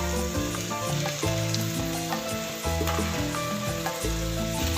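Chopped onions and a few garlic cloves fry steadily in a pan at close range, with a continuous loud sizzle and bright crackle that keep going without pause and with no talking over them.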